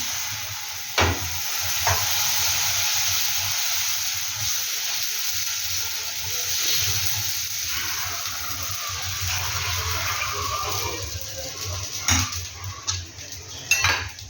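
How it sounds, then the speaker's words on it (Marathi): A steady, loud hiss of semolina batter sizzling on a hot griddle continues throughout, with occasional clinks and scrapes of a metal utensil. "आता हे रव्याचं बॅटर आपण त्यावर टाकून घेऊ"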